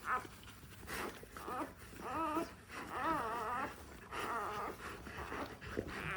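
Newborn puppies whimper and squeal in a whelping box, with a steady run of high, wavering cries. Soft background rustling is heard, and there is no talk.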